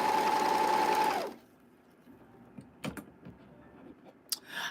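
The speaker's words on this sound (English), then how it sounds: "I've never met a more temperamental, argumentative machine than a Bernina." A Bernina sewing machine runs in a steady, loud mechanical whir with a high whine for about a second, then stops; faint clicks, rustles and handling noises follow in the quiet.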